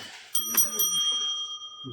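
A bright bicycle-style bell rings with a couple of quick strikes, its tone ringing on and fading slowly, close by.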